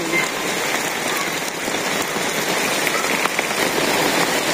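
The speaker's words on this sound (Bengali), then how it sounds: "বৃষ্টি নামছে আর এই যে" Steady rain falls in a village, a loud, even wash of drops pattering on nearby surfaces with a couple of sharper drips standing out, continuous and without voices.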